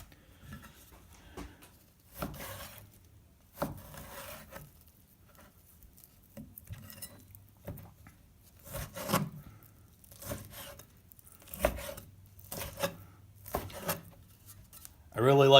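A knife chops pork into cubes on a cutting board, giving irregular soft thuds and scrapes separated by quiet pauses, fairly faint and close, with someone talking at times.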